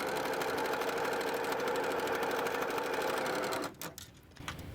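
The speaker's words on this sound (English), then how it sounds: "I'm going to sew right through the center." A sewing machine runs steadily stitching through the center of a quilt block, a continuous mechanical whir for several seconds that stops abruptly near the end, followed by a few faint handling sounds.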